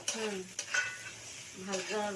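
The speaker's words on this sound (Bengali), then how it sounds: "হলুদ মাখানো আলুগুলো দিয়ে একটু ভাজতে হবে" Salt-and-turmeric-coated potatoes fry in hot oil with cumin seeds, dried chilies and bay leaves, a steady close sizzle with a few light utensil taps and tonal, hum-like sounds over it.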